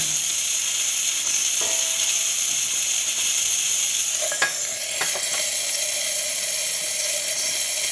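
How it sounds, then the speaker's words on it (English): Steam hissing steadily from the steamer boiler of a DeLonghi Gran Dama Deluxe espresso machine, a continuous bright sizzle close by with a few faint clicks and no talk. "Nice steam coming out of the machine,"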